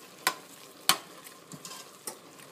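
Ground meat sautéing in its own fat over a lowered flame for an empanada filling gives a soft, faint sizzle punctuated by a few sharp utensil clicks against the pan.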